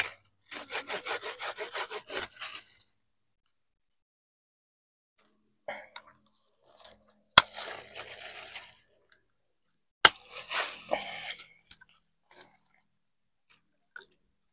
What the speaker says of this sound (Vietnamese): Nghe tiếng cưa mà cái sướng người trời.